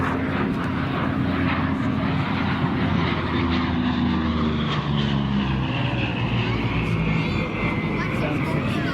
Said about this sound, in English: Second of the P-38 Lightnings.